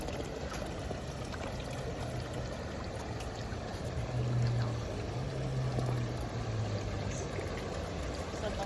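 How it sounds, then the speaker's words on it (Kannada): Water seeping and trickling across a table-like water feature at the Fairmont Hotel Lusail, a soft, steady flow over a low hum, faint and continuous with no voices. "ನೀರು ಹೆಂಗೆ ಜಿನುಗ್ತಾ ಇದೆ."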